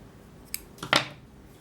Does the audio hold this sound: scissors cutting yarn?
yes